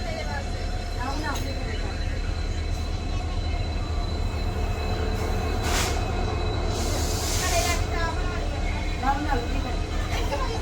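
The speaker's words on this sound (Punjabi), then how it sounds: "ਪਲੇਟਫਾਰਮ ਨੰਬਰ 2 ਤੇ ਆਪਣੀ ਗੱਡੀ ਟ੍ਰੇਨ ਪਹੁੰਚ ਗਈ ਹੈ" Rumbling passenger train arriving at platform 2 of a station on the Ambala Cantt–Dhuri route, rhythmic wheel clatter and occasional squeals, a steady loud rolling sound with faint voices in the background.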